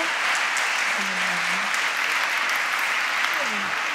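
Audience clapping at a stand-up comedy show, a dense, steady applause throughout, with a voice speaking briefly over it.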